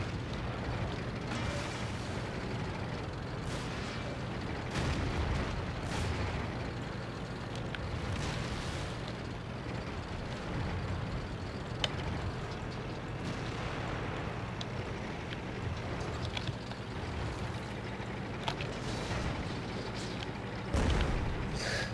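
Artillery shells firing and exploding in World of Tanks, the British Tier IV Covenanter light tank under fire, heard as repeated dull booms and blasts over a steady rumbling engine and battle din, with no talking.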